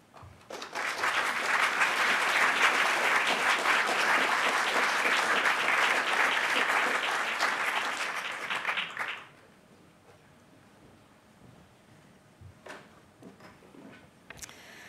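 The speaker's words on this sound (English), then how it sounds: "one more clap for all of our citation winners" Audience applause at a university learning and teaching awards ceremony, a loud, dense burst of many hands clapping that holds steady for about nine seconds, then stops abruptly, leaving a quiet room with a few faint knocks.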